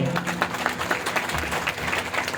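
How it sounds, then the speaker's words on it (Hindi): A church congregation claps for God during a worship and testimony service, a dense steady burst of many hands with some voices and background tones blended in. "एक जिंदा ताली परमेश्वर के लिए बजाएं"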